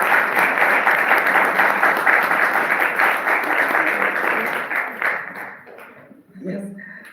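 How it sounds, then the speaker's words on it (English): An audience at a Washington state history museum event applauds in a sustained, dense wash of clapping that fades out toward the end, followed by a brief voice. "Give them another round of applause."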